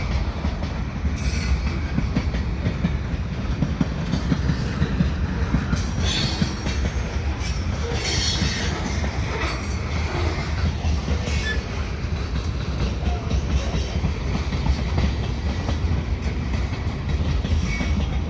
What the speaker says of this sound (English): CN mixed freight heading eastbound